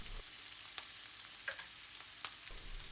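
Salt and fenugreek leaves being stirred into a pan for a British Indian restaurant-style balti: a faint, soft sizzle broken by a few scattered spoon scrapes and taps, with no talking.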